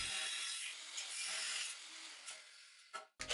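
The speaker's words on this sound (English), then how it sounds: "Now I can use a 40-thousandths cutoff wheel in my 5-inch Metabo grinder to safely cut the tabs free and clean up the edges of these slot cuts." A 40-thousandths cutoff wheel on a 5-inch Metabo angle grinder cuts metal tabs free along slot cuts, giving a steady, close, bright grinding rasp that runs continuously for about three seconds before cutting off abruptly.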